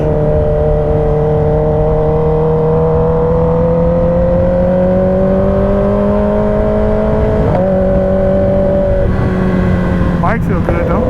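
A 2023 Kawasaki ZX-10R sport bike is ridden with a steady, droning engine tone that slowly climbs and dips through the gears, paired with constant wind rush, heard from the rider's position.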